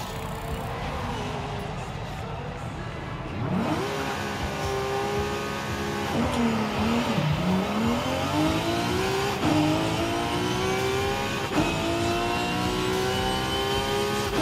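A Lexus in the racing game Forza Horizon 5 revs hard, its engine note sweeping up and dipping repeatedly through gears, loud and continuous with no talk over it.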